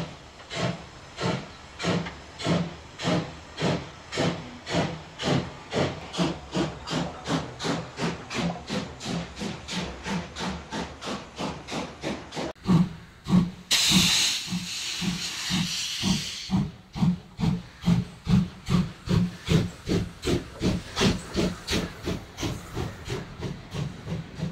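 German class 01 steam locomotive 01 150, hauling the Rheingold Express, chuffs in a steady, close rhythm of exhaust beats. Partway through, a loud burst of hissing steam cuts in for a few seconds, and there is no talking.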